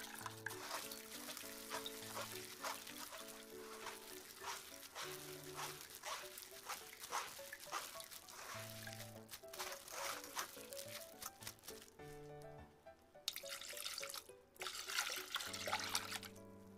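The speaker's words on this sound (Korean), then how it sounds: "물 1리터를 붓고 손으로 팥을 으깨서 걸러낸 물을 합쳐주세요" Water poured and trickling while red beans are mashed by hand and strained for winter solstice red bean porridge, a continuous close splashing and dribbling under steady background music.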